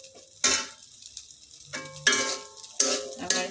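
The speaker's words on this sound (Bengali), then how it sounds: "আমি এখন চুলাটা জ্বালিয়ে নুডলসটা গরম করে নিয়েছিলাম," Egg noodles being reheated in a pan on a stove, with a utensil scraping and stirring in three or four close bursts of sizzle and metallic clatter separated by quieter gaps.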